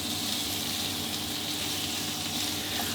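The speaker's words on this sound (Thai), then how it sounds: "ผัดกุ้งใช้ไฟแรงได้เลยนะครับ" Shrimp stir-fried over high heat in a hot pan, a loud, dense, continuous sizzle with faint stirring scrapes, steady from start to finish and no talking.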